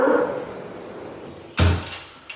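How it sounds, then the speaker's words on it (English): A pocket door rolls shut with a soft sliding rumble that ends in a single firm thud against the frame, followed by a faint tap, nearby and without talking. "we'll go ahead and close our door"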